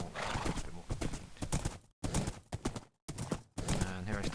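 Horse hooves clip-clop in a video game, a quick galloping rhythm of close, loud hoofbeats with brief gaps of silence, alongside a horse neighing.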